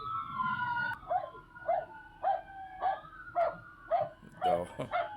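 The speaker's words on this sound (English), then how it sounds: "This cop obviously has a dog with him." A police dog barks in a steady run of about eight sharp barks, each roughly half a second apart, while a siren wails in the background. The barking sounds moderately distant and somewhat faint.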